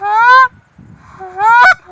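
Canada geese calling close by: two loud, nasal honks separated by a short pause, with faint background noise between them.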